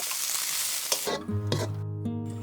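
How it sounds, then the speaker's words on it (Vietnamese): Chinese sausage, regular sausage, carrot and green beans stir-fry in a hot pan. A loud crackling sizzle gives way to softer frying with scraping stirs, and a tonal background sound appears partway through. "Cho hết lạp xưởng, xúc xích và cà rốt vào. Xào chín nha các bạn."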